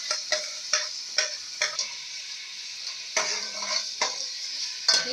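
Mutton frying in a pan with onion-tomato paste and yogurt, a steady close sizzle broken by repeated stirring scrapes at an irregular rhythm, with no voices.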